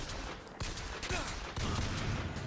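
Gunfire in the video game Bioshock Infinite, a few close, sharp shots over a dense, noisy game soundscape.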